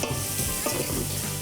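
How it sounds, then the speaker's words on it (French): Vegetarian chili of tofu, red beans and vegetables is stirred in a hot pan, a loud dense sizzle overlaid with continuous scraping and stirring, close and uninterrupted. "Mélanger ça comme il faut."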